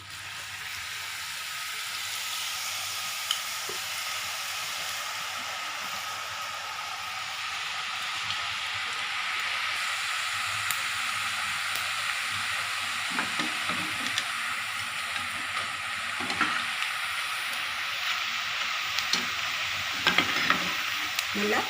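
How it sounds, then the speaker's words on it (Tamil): Ribbon pakoda batter, pressed into hot oil, fries with a steady, dense sizzle and crackle that holds through the whole stretch, with no voices. "எண்ணெய் சூடேட்டோம். எண்ணெய் காஞ்சிடுச்சு. இப்போ நம்ம பகோடாவை புழிஞ்சு எடுத்துக்கலாம்."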